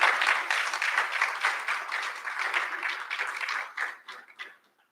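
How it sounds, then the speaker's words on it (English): An audience at a college recognition ceremony gives sustained applause that holds steady, then thins into scattered claps and fades out. "Can we give them another round of applause?"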